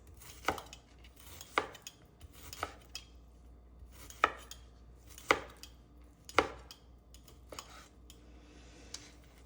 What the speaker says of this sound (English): slice them again and cut them into small pieces